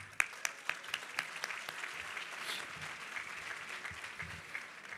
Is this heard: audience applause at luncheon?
yes